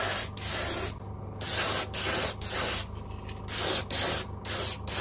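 Repeated short bursts of clear coat sprayed from a can onto custom-painted fishing lures, six or seven hissing passes with brief pauses between, close and loud with no talking.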